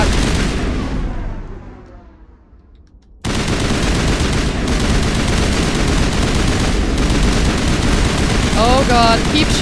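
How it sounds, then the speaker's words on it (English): Rapid automatic gunfire blasts in a Mass Effect Legendary Edition firefight, dense and loud, pausing briefly after a fading burst, then resuming in a sustained, continuous barrage with a brief electronic warble near the end. "Oh god, keep shooting, guys!"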